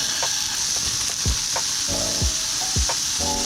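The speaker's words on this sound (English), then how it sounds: "we've got a preheated frying pan here, and I've got about 3 pounds of ground beef." About 1.5 pounds of ground beef sizzles and crackles steadily in a preheated frying pan, with occasional scraping and clinks from stirring with a wooden spoon.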